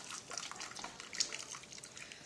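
Water from boiled chicken feet being strained, with steady close dripping and trickling liquid, a soft continuous splashy patter with one brighter splash partway through, no talk.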